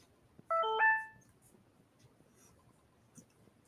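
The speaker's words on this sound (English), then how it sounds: "There goes my phone." A phone gives one short electronic ring, a brief bright tone lasting about half a second, then quiet with faint background murmur.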